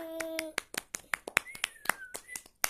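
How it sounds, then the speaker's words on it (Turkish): A few people clap in a sharp, uneven burst of applause for a friend during a card game at home, close and fairly quiet, with a voice chiming in between the claps. "Hira'ya bir alkış alalım"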